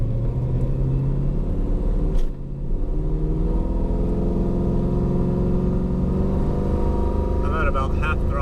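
LS1-powered fourth-generation Camaro accelerating up an incline at about half throttle, a steady low engine rumble and drone holding loud and close throughout with a brief dip partway.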